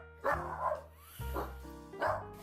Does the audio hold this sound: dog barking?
yes